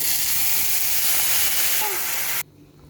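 Tomato and onion drop into hot oil with curry leaves for a gravy, giving a loud, steady close-up sizzle that cuts off abruptly near the end.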